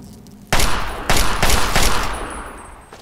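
Rapid gunfire from the video game Fallout 3: several loud, sharp bursts of shots in quick succession, close and dominant, with no talk over them.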